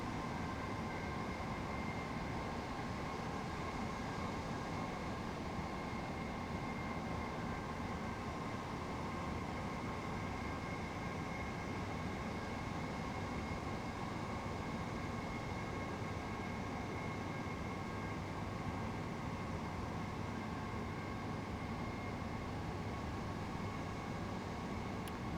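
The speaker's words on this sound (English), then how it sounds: "not normally a fan of electric trains, but I could just sit and listen to this for ages" An electric train in Train Sim World 3 runs along the East Coastway line with a steady, even cab drone. Faint motor whine tones hold above a soft rumble, unbroken for the whole stretch.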